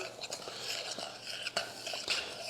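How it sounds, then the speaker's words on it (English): A spoon stirs a vinegar mixture for mustard beans in a bowl, making close, quiet scraping and clinking against the sides in an irregular rhythm, with no speech. "Put that in and mix it around before you add the water."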